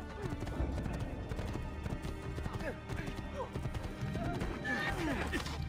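Horse hooves clip-clopping and a horse neighing in the video game Assassin's Creed 2, layered over busy game sounds, crashes and voices.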